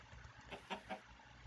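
Chickens in Minecraft cluck in three quick, faint bursts over a low background hum.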